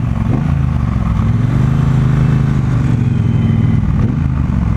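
A Triumph Bonneville Bobber with its stock exhaust idles and revs steadily nearby with a deep, throaty rumble, loud and continuous with no talking.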